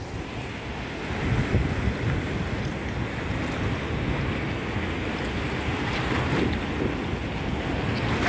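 A steady, loud roar of wind and heavy rain during a storm in Dubai, continuous and unbroken, with gusts buffeting the microphone.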